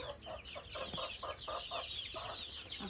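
Chickens cluck in a rain-flooded, muddy coop, a quick run of rhythmic clucks, fairly close and soft, over a faint background hiss.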